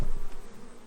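Honeybees buzzing around an open hive during a mid-July inspection, a brief close hum lasting under a second.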